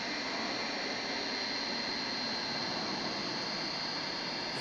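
A United Airlines jet airliner's engines roar steadily at an airport, a broad, even rushing noise holding constant throughout with no talking.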